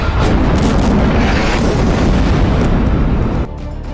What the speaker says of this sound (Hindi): इजरायल ने यहां कई इमारतों पर बमबारी की है।